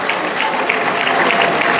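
Students at a university rally applaud, a short burst of dense, continuous clapping from a sizable crowd heard without speech.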